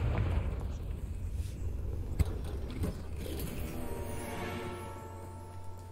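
A Confringo fire spell goes off in Hogwarts Legacy gameplay as a sharp blast and crackling burst over a low rumbling game backdrop, followed by fainter fizzing tones as it dies away.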